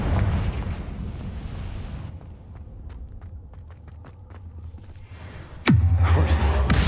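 Confringo explosion spell in Hogwarts Legacy: a loud burst near the start fades out, scattered small crackles follow, then a sharp close blast hits near the end and rumbles on.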